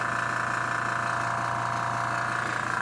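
A small airbrush compressor motor on the floor hums and buzzes steadily at a constant pitch, moderately loud with no variation.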